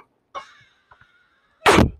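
Air blown into a trumpet with misaligned valves produces no tone, only a faint breathy puff followed by a short loud burst of rushing air.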